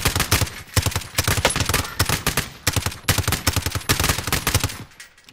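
Rapid gunfire from a video game weapon switched to single-shot mode, many sharp shots in fast, slightly uneven bursts with brief gaps, loud and close, no talk.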